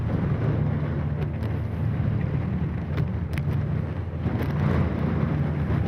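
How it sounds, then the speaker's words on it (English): Fishing boat Kingfish running at full throttle through storm waves, its hull vibrating in a steady low engine drone with wind buffeting and occasional thuds of water across the whole stretch. "The whole boat is vibrating as it tries to punch the waves."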